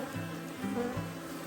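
Honeybees in a hive hum in low, droning buzzes that swell and fade in short overlapping bursts, faint and close, with no voices.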